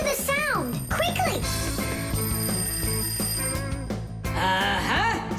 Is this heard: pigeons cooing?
no